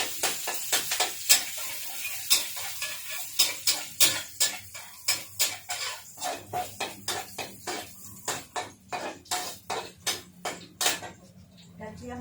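Garlic frying in a pan for a Thai breakfast dish, with a faint sizzle under a steady series of sharp spatula scrapes and clinks against the pan, repeating roughly every half second.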